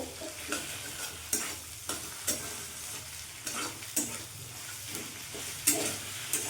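Moong dal with fish head and taro fries in a pan over a raised flame: a steady sizzle punctuated by regular, fairly sharp scraping stirs about every half second, with no talking.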